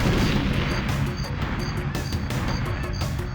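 Remote mines detonating in the GoldenEye 007 video game, a loud, dense burst of explosions and gunfire-like booms filling the whole moment with no pause.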